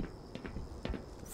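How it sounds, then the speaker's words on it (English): Footsteps in a video game, a few soft, irregular thuds over a steady background hum, faint and close. "Footsteps."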